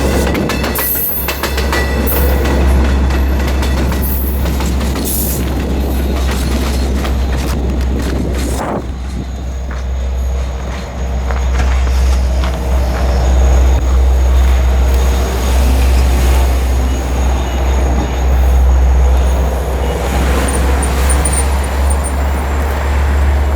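A westbound train passes the Marcy Avenue crossing in Riverhead close by, cab car first, with a loud steady rumble and clattering wheels. The noise dips briefly midway, then swells again as the cars roll past.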